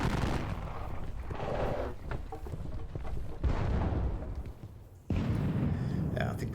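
Napoleonic units exchange gunfire in a Wargame Design Studio battle game, with repeated booming musket and cannon shots and rumbling volleys, one sharp loud burst near the end, under talk.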